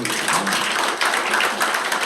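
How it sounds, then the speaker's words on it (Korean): A crowd at an environmental protection association's general assembly breaks into continuous, fairly loud applause that fills the whole short stretch without a pause. "이거 박수 나올 겁니다"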